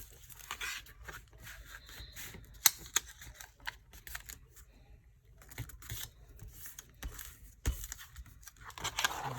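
Stiff cover material is creased and folded around the edges of a no-sew notebook cover, giving a run of soft crinkles, taps and sharp creasing snaps close by with brief pauses, no voices.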